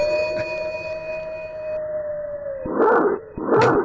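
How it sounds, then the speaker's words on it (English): A dog howls and barks nearby, a long sustained howl tone gliding gently downward before two short, loud bursts of barking at the end, with no talk over it. "Forget about the barks at the end."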